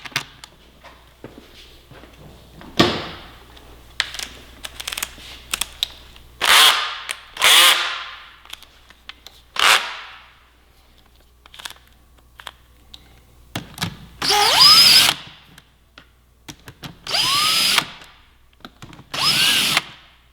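A power drill whirs in short bursts as it drives airbox screws on a 2017 Yamaha R6, each run a few seconds long and separated by clunks and quiet handling noises, close by with no talk.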